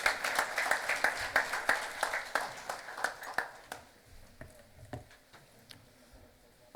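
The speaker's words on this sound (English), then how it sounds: "A big round of applause, please." Applause at a national convention of insolvency professionals and registered valuers, fairly soft and close, with rhythmic claps that grow sparse and fade to scattered single claps.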